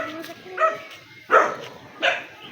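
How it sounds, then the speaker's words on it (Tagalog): A dog barks three times in short, sharp bursts, spaced about a second apart, at moderate distance, with people talking around the barks. "May aso pa hanggang doon."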